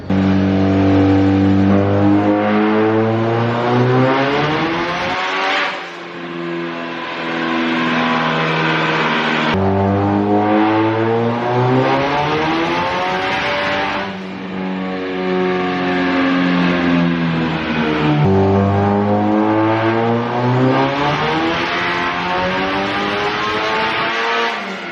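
A 2JZ-engined Nissan S15 drift car runs on a dyno with nitrous, roaring loudly through repeated rising revs that climb, cut out abruptly at the air-fuel ratio limit, and restart, three long pulls with no talk.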